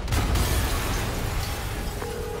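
Explosion in a Spider-Man video game, a loud low boom and burst at the start that rumbles on and fades over a couple of seconds.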